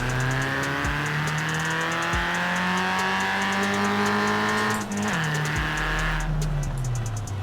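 Naturally aspirated engine of a 1983 MK1 Golf GTI in the Forza Horizon 4 racing game, revving up through rising pitch sweeps with brief dips at gear changes, loud and close throughout.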